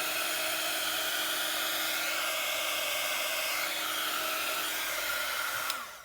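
A handheld dryer blows steadily on wet ink during a splat-style art technique, a continuous close whooshing hum whose pitch dips and shifts slightly before a short rattle at the end.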